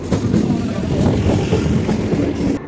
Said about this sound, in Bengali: তো অনেক অপেক্ষার পর এখন ট্রেন এসে গেছে, চলুন আমি ট্রেনে উঠে পড়ি।